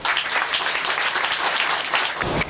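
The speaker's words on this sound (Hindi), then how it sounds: "इनके लिए एक ताली हो जाए" A gathering of devotees at a religious event claps together: a full, continuous round of applause that stays loud and even, then tapers slightly at the very end.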